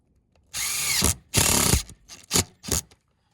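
Power drill screwing a metal roof pipe jack with a neoprene washer seal into a metal roof: three to four close, loud whirring bursts, the first two long, then two short pulses, with no talk.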